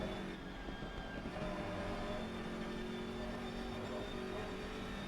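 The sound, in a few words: BMW GT3 race car engine, Assetto Corsa Competizione video game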